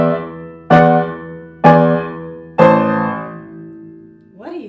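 Beginner-level piano playing the Malagueña pattern with both hands together: three loud, sustained chords struck about a second apart, each ringing and slowly decaying, followed by a brief quieter rising-and-falling run at the end.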